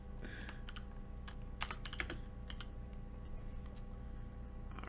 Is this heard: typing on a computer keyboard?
yes